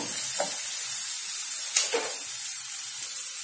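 Green chillies sautéing in a pan for rava upma, a steady broad hiss with a couple of brief stirring scrapes near the start, no voices.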